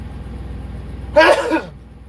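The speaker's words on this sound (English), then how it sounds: "Hold on, I'm gonna sneeze." A single short, sharp sneeze bursts out over a low steady hum, then fades quickly.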